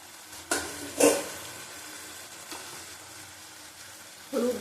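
Taro stolons, prawns and potato fry in a pan with a faint, low sizzle, punctuated by a few brief clatters and stirring knocks near the start and end.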